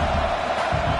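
Stadium crowd noise from the NCAA college football video game, a steady dense roar of spectators cheering behind the defense on a big third down, sustained and loud throughout.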